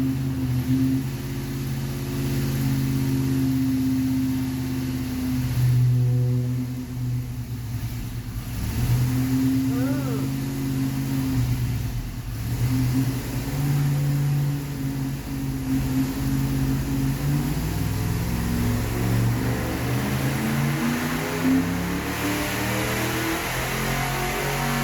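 A stock Ford 460 V8 runs on a dynamometer with a steady, loud, rumbling drone whose pitch rises and falls as it revs, growing rougher toward the end.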